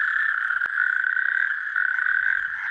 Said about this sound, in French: Le crapaud calamite.